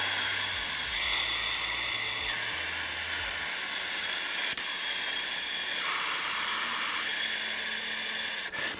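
Continuous air blown through a trumpet in a practice air pattern gives a loud, steady breathy rush with shifting pitch, uninterrupted for several seconds and close up.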